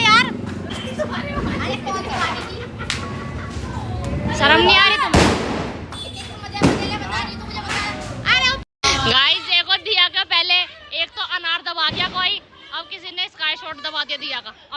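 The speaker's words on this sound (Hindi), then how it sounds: "भैया को देखो बावड़ा सा कैसे मर्जी बम फेंक रहा है यहाँ" Firecrackers set off during a Diwali celebration give a few sharp, loud bangs scattered among lively chatter from children and adults.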